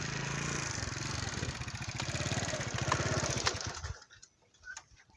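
A motorcycle engine runs steadily on a ride through the sand dunes of the Thal desert, a close, loud pulsing drone that cuts off after about four seconds, leaving faint outdoor sounds.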